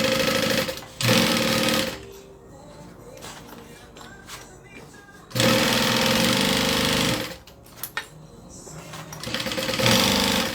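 A sewing machine sews the Denver backpack, full size, in loud, close bursts of rapid stitching separated by pauses with handling noises and some talk.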